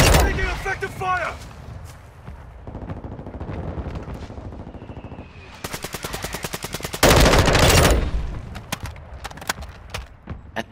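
Bursts of automatic gunfire in Call of Duty: Modern Warfare II rattle in rapid strings, with a loud sustained volley near the end, while a player shouts over the shooting.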